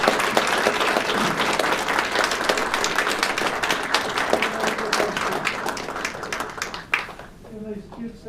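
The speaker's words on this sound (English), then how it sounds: "Un applaudissement again." An audience applauds steadily at a French Legion of Honor medal ceremony. The clapping is dense and close, with voices underneath, and it fades at the end.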